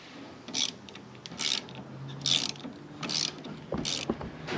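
A ratcheting Allen key tightens a bolt on a Nissan 370Z steering rack, five close, crisp bursts of clicking ratchet in an uneven rhythm with brief pauses between them.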